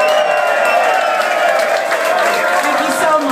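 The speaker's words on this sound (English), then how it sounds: "let's have a round of applause" A crowd at the Royal Vauxhall Tavern welcomes a guest with cheering and clapping, a loud continuous roar of voices and hands blended with a steady tonal hum in the room.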